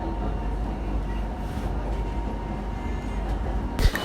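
Riding inside a Kochi metro train: a steady, loud rumbling rail drone with faint wheel clatter fills the whole stretch, ending in a brief sharper clunk near the close, with no talk.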